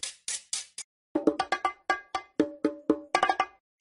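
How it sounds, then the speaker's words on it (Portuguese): Bachata percussion sample played back: a few quick bright scrapes, then a lively run of close, crisp cowbell-like strikes in a syncopated pattern, alone without any voice. "vou mostrar o sonzinho rapidinho aqui dessa percussa bachata"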